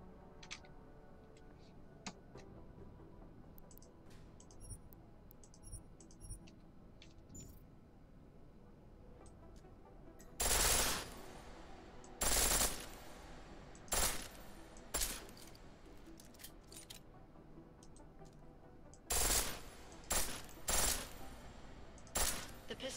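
Weapon bursts firing on full auto in Deus Ex: Mankind Divided, several loud separate volleys arriving in the second half over a low steady game background.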